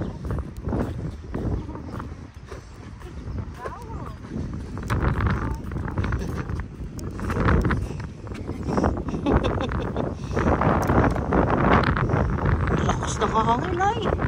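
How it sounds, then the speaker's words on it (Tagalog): Strong wind outdoors on a walk near a large tree, heard as steady gusty rumble and buffeting against the microphone throughout. People talk over it, and footsteps sound faintly. "Lakas ng hangin ay."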